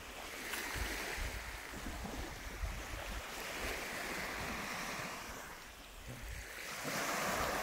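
Surf washes onto a beach lined with coconut palms on Tameti island in the Guraici islands, a continuous rushing roar of breaking waves that swells and recedes, with wind buffeting the microphone.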